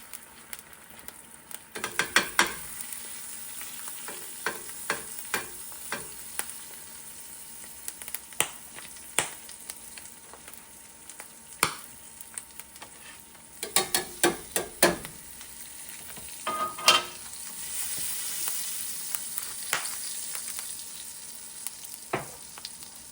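Steak frying in oil in a cast iron pan, a continuous sizzle broken by sharp clicks, scrapes and clatters of a utensil moving the meat, with no talking.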